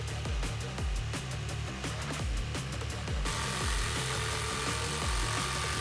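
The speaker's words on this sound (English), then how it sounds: "So I switched over to a good old power tool and got it done in like 4 seconds." A power tool cuts through a cardboard sword blade with a loud, steady motor whine and a repeating rhythmic chatter, the pitch shifting partway through.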